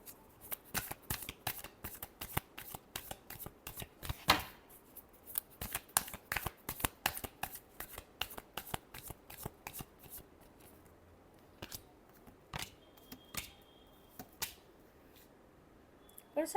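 Tarot cards being shuffled by hand, a long series of sharp, rapid riffles and flicks close to the listener, irregular in rhythm and continuing throughout with brief pauses.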